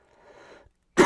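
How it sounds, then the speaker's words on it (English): A single sharp, loud cough bursts out at the end after a few seconds of faint, muffled sound. "Do apologize for that cough."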